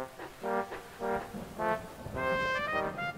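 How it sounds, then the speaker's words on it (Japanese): A small steam locomotive whistle sounds a series of short, fairly faint toots in an uneven rhythm, followed by a longer sustained blast. "スカーロイもできるだけ一生懸命に汽笛を鳴らしたが、とても勇敢とは言えなかった"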